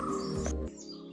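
Birds chirp briefly among the trees on a forest trek to Vasota fort, short tweets and calls over a soft, steady outdoor background.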